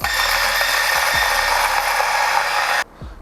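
A DF64V coffee grinder fitted with SSP burrs grinds espresso with a steady, loud motorised whir and a gritty rasp that runs for nearly three seconds. The grind then cuts off abruptly, leaving a faint rattle.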